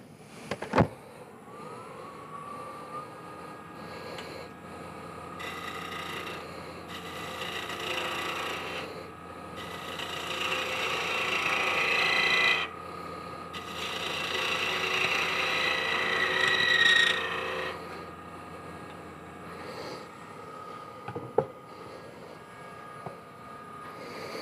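Wood being turned on a lathe while a tenon is cut with a skew or spindle gouge on a three-sided box. A steady motor hum runs throughout, with rising, hissing bursts of tool cutting at close range and no talk.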